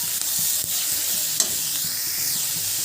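Tomatoes and onions sautéed in a pan for egg kulambu, with a steady loud sizzle of frying and repeated stirring scrapes against the pan, no talk.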